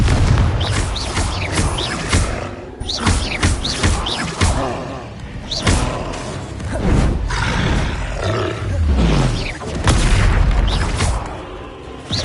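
Booming spell blasts and roaring impacts from combat in Hogwarts Legacy, a wizarding video game, with Confringo fire spells bursting over a dense, continuous wash of game sound effects and music that stays loud throughout.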